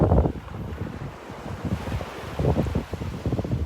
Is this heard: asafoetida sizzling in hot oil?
no